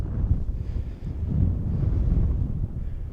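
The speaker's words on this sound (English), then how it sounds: "it's windy up there" Strong wind buffets the microphone on an exposed hilltop near a wind farm, a continuous low roaring rumble that surges and dips in gusts with no other sounds.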